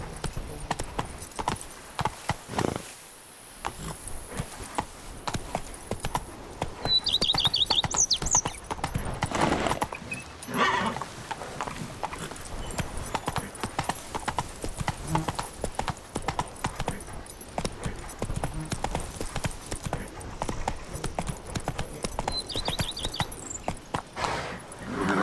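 In The Witcher video game, the horse Roach trots along with a crisp, rhythmic clip-clop of hooves that runs nearly continuously, with a faint whinny and a few brief pauses.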